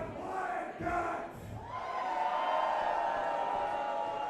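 A crowd at a live wrestling event cheers and roars in a large hall, the noise swelling into a sustained din heard from a distance.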